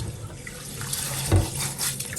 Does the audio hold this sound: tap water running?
yes